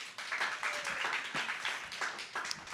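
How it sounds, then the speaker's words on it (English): Audience applauding at a weekly office breakfast meeting, steady dense clapping from a room of people, moderately distant and continuous throughout. "She's not here today, but we can applaud her."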